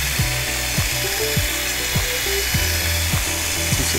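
A drill-driven polishing pad works across the painted body of an electric guitar, giving a continuous motor whir with a rhythmic rubbing and ratcheting pulse that repeats roughly every half second.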